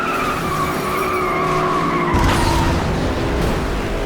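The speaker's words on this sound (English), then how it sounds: "it's not unusual for multiple cars to crash and flip" Cars skid and crash in the FlatOut: Ultimate Carnage racing game, with loud, continuous tire squeals and engine roar, then a heavy impact burst midway followed by more screeching.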